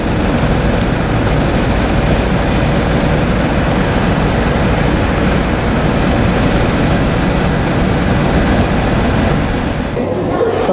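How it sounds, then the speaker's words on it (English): A Shinkansen bullet train at Odawara station gives a loud, steady rushing roar that fills the whole stretch, with faint voices under it. "we're catching a Shinkansen, one of the bullet trains, to Tokyo at 40 minutes past 4."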